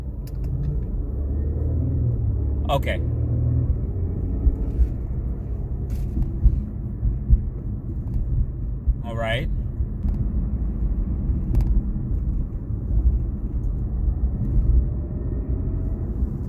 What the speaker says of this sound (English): I can definitely hear the transmission a lot more than before, because you really couldn't hear it before